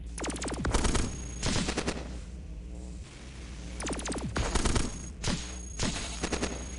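Bursts of rapid automatic gunfire in the robot combat game Cogmind, loud and close, several rattling volleys separated by short gaps with a droning background.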